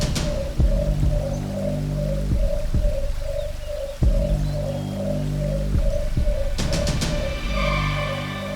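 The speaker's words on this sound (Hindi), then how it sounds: "ये पक्षी तो निशाचर पक्षी नहीं।" A bird calls in a forest as a TV show sound effect, a mellow hooting note repeated in a fast, even pulse, with a few dull thumps and a brief rattle partway through.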